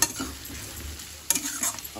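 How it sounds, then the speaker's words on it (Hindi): Mushroom and paneer frying and being stirred in a pan, a steady sizzle with sharp scraping stir strokes near the start and again in a cluster later, close and fairly loud. "ये फ्राई कर रहे हैं अभी इसको"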